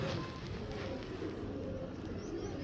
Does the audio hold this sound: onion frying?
no